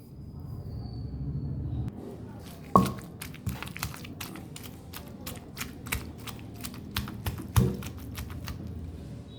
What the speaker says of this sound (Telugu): ఈ బచ్చల కూర ఇంకా ఆల్రెడీ నానబెట్టుకున్న చింతపండు వేసి దంచుకుందామండి